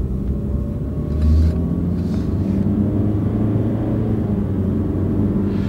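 A Nissan car fitted with a Jatco CVT rolls along at low speed, giving a steady low engine and road rumble with a soft drone throughout and one brief swell early on.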